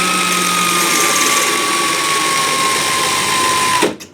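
Powered case trimmer whirring steadily as it trims 5.56/.223 brass cases at a reloading bench, a loud continuous motor drone with a high whine that holds for nearly four seconds, then stops abruptly.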